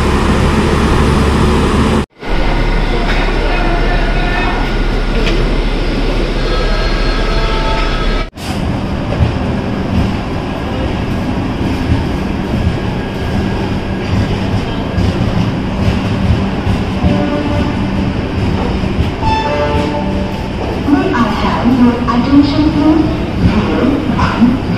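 The Pawan Express rolls through Bhusawal station, a loud sustained rumble and clatter of wheels and carriages along the platform, with a faint squeal near the end and a public address announcement in the background.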